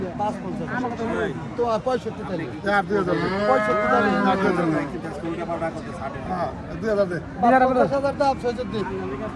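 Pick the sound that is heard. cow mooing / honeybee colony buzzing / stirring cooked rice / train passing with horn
cow mooing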